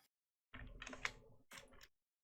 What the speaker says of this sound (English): Mildly sorry for the typing sounds.